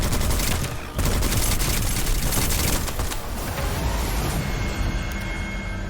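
Enemies firing guns in the video game Witchfire: a heavy, continuous fusillade of overlapping shots, loud and close, holding steady for several seconds and thinning slightly toward the end.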